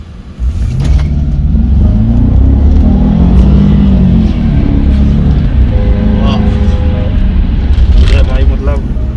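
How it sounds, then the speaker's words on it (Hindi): A 5000 cc supercharged V8 petrol car accelerates hard, its loud, deep engine roar climbing in pitch through the gears with steady rumble for about nine seconds, heard up close from inside. "ऐसी पेट्रोल वेरिएंट आ गई 5000 सीसी सुपर चार्ज V8"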